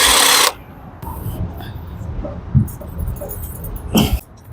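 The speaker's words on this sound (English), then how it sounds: "you don't need the impact wrench, it just makes things a lot faster." An impact wrench loosening lug nuts on the front wheel of a 2015 Lincoln MKS fires two short, loud buzzing bursts, one at the start and one near the end, with someone talking in between.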